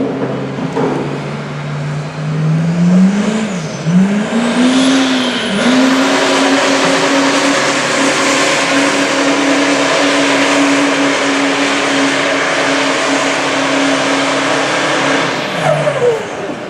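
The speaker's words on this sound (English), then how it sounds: "It's a little bit of a trick to launch a compound charge automatic truck like this." A compound-turbo automatic diesel pulling truck launches at a truck pull, its engine roaring loud and close with a rising pitch and tire squeal, then holding a steady, sustained drone as it pulls down the track.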